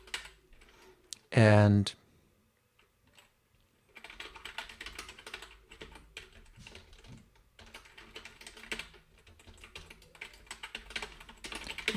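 Code being typed on a computer keyboard, with a steady run of clicking keystrokes through the second half, preceded by a brief spoken word and a short loud burst near the start.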